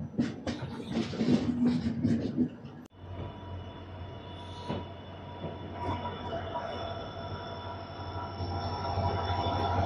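The Rayalaseema Superfast Express slowly enters Guntakal Junction, with a loud rumble, a sharp break, then a steady droning hum of wheels and motors that swells gradually, with faint voices early on.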